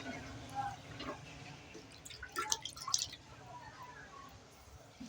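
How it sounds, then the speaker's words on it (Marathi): A glass of water is poured into hot oil left in a pan after frying fish, giving a burst of crackling, bubbling splashes that swell and fade over a few seconds against low background noise. "माश्या फ्राय झालेल्या तेलामध्ये आता आपण एक ग्लास पाणी टाकू मध्ये"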